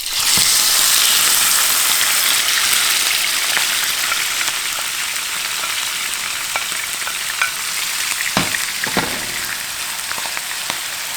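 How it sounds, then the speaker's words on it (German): Liver sizzles and fries hard in a pan on the highest heat, a dense continuous hiss with scattered pops and occasional scraping clatter, close and loud with no talk. "So, erstmal die Leber anbraten."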